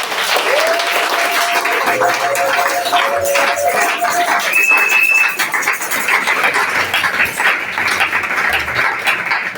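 A church congregation at a French-language service applauds to acclaim the Lord, with loud, sustained clapping filling the room while a voice or two carries faintly above it.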